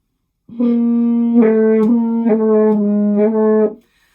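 A muffled, stopped-sounding French horn note, played with the whole hand in the bell, is held for about three seconds, with slight pulses and changes in tone along the way.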